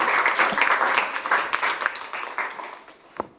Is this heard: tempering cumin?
no